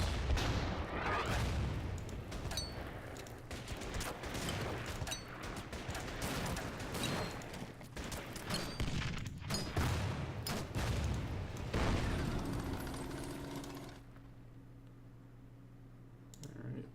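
Artillery and gunfire in the WW2 strategy game Order of Battle, dense crackling bursts and booms rolling on for most of the stretch, then dropping to a quiet hum, with mouse clicks mixed in.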